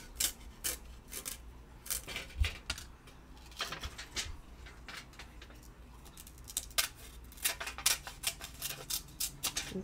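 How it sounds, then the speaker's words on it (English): Tonic mini snips cutting carefully around the edges of a die-cut piece, producing quiet repeated clicking snips at an irregular rhythm, close by with no talk. "now I'm going to take the tonic mini snips and just very carefully cut around"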